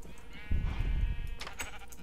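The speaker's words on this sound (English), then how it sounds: "Oh, baby sheep." A baby sheep in Minecraft bleats once, a close, clear wavering cry lasting about a second.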